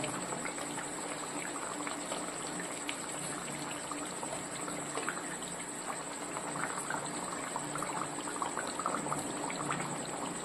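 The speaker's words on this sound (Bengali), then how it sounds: "ঝোলটা ফুটে গেছে, এবার আমি দিয়ে দেবো ডিমগুলো" Curry broth for an egg curry bubbling at a steady rolling boil in a pot, a dense continuous fizzing and popping texture close up, with no one talking.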